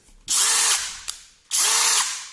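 Two bursts of rapid ratcheting clicks from the reverse mechanism of a Parkside Performance 12V drill after heavy use, close and loud, with a short tick between them.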